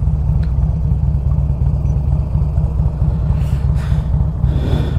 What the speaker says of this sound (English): Not sure if you guys can hear the lope going on with this bike, but that's with the new FuelLink cam chest rebuild and the S&S 510 cams